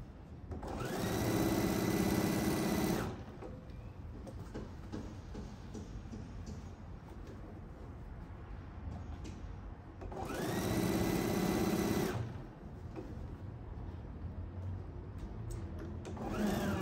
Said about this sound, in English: So sew what you can, and then make sure it's all nice and straight.